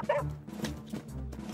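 A cartoon rescue dog barks in short, close, fairly loud yips and woofs, several in quick succession over a low background.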